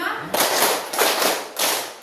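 Students in a teacher-training classroom clap a counted pattern, three loud, dense bursts of group clapping, each lasting about half a second, back to back.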